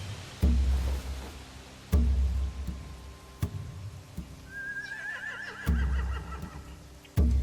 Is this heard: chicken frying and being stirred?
no